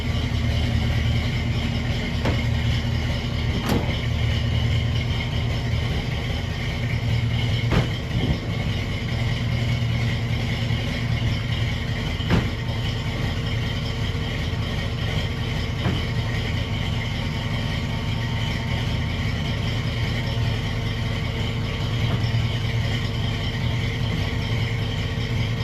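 Ford Mustang Foxbody idling rich inside a shop, a steady low engine rumble with a faint rattle and a few sharp clicks, continuous and close.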